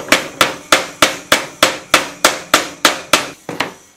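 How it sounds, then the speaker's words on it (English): A metal collar is hammered onto a wooden stake with about twelve sharp, evenly spaced blows, loud and close, each one ringing briefly before the next. "Now hammer on the collar."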